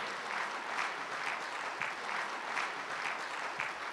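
An audience at an Indian Republic Day poetry gathering applauds in a steady, dense wash of clapping that continues without a break, heard alone with no voices.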